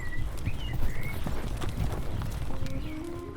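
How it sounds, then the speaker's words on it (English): Several horses ride away at a steady pace, hooves clip-clopping in a busy, overlapping rhythm at moderate distance, with a brief whinny early on and no voices. "The thieves mounted their horses as if nothing had happened and rode away."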